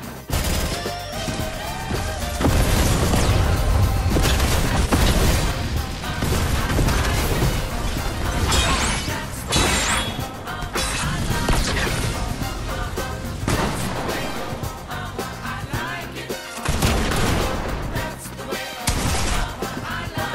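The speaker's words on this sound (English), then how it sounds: "I'm going to explode the gas station." A gas station blown up in a video game: a continuous barrage of loud booms, crashes and rapid gunfire-like blasts lasting about twenty seconds, dense and chaotic throughout with no pauses.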